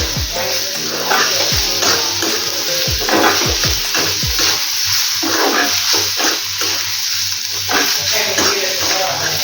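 Egg curry masala ingredients, including sliced onion, roast together in a pan, with steady sizzling and frying broken by repeated scraping stir strokes, close and continuous throughout.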